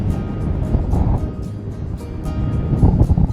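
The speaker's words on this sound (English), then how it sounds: "Ooh, that wind." Strong wind blowing outdoors on a dry hillside walk, a loud, gusty rumble buffeting the microphone with rising and falling surges.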